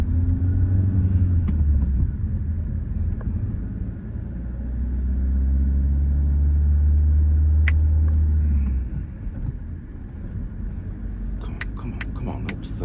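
A learner driver's car pulls away from lights, its engine rumbling low and rising as it accelerates, then easing off, heard from inside the cabin with a few faint clicks and no speech.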